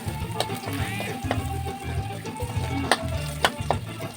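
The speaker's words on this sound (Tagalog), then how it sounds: "Isunod natin ang pagluto na ang ating bawang." Garlic sautés in a hot pan for an upo and vegetable dish, a steady close sizzle broken by occasional clicks and scrapes of stirring, with no talking.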